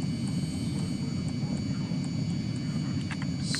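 Jet aircraft engine in Arma 3 taxiing at about 50 miles an hour, a steady loud roar with a constant high whine running throughout.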